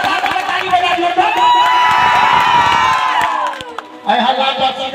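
A crowd at a stage show cheers and shouts in a loud, sustained roar with whoops. The noise dips briefly, then surges back.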